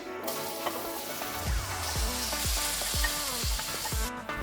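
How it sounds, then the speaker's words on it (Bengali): Chopped tomatoes sizzle in a hot pan over a medium gas flame with ginger for a Bengali tomato chutney, a steady frying hiss broken by rhythmic scraping stirs from about the midpoint, close and alone. "গ্যাসের ফ্লেমটাকে মিডিয়ামে রেখে টমেটোগুলোকে ফ্রাই করতে হবে"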